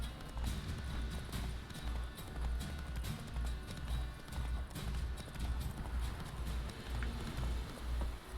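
Roach the horse gallops in The Witcher 3, hooves pounding in a quick, steady rhythmic clip-clop throughout, fairly close with a soft background bed.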